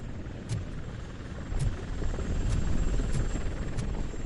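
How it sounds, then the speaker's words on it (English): A TV news helicopter in the RoboCop: Rogue City video game gives a steady, moderately loud rotor drone throughout, with faint regular ticks above it and no voices. "That's a TV helicopter."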